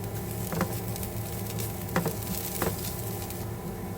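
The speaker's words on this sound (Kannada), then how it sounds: "ಇದೆರಡನ್ನು ಹಾಕಿಬಿಟ್ಟು ಸ್ವಲ್ಪ ಹೊತ್ತು ನೀವು ಮತ್ತೆ ಫ್ರೈ ಮಾಡಬೇಕು." Beetroot frying in a pan with turmeric and salt, a steady low sizzle broken by a few sharper spatters and stirring scrapes, close and fairly loud, with no talking.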